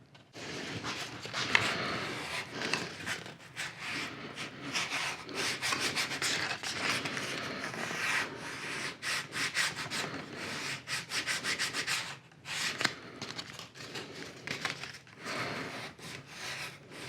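Foam board edges being curled for a model airplane fuselage (FT Tubby B-17), a steady close rubbing and scraping that runs continuously with brief pauses, no talking.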